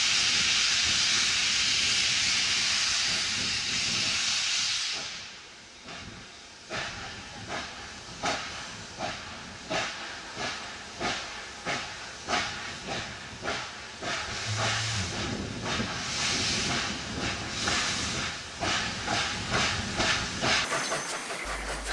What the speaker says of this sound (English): 3818 reverses its train south of Albury for a photo stop.